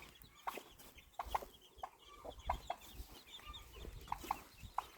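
Chickens and a turkey cluck in short repeated bursts over a steady outdoor garden background, with a few sharper calls scattered throughout, moderately distant and fairly quiet.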